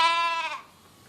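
A single sheep bleats close by, a loud wavering cry that lasts about half a second and then breaks off into quiet.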